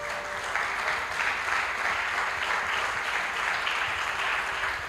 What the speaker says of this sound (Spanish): Bendice la palabra con un fuerte aplauso.